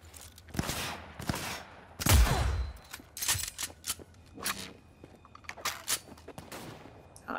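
Sniper rifle fire in Cyberpunk 2077, a few sharp reports separated by gaps, one heavier boom near the middle, with scattered combat noise between shots.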